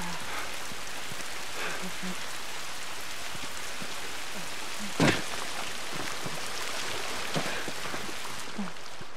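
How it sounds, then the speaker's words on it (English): Continuous rain in the video game The Last of Us, a steady hiss of drops falling without talk, with a sharp close knock or thump midway and a few fainter taps. "At least we're out of the rain."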